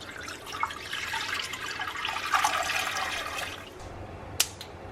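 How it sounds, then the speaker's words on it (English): Water pours into a pan in a steady, close splashing stream that fades out, ending with a sharp clink. "All you're gonna do is pour your water in the pan."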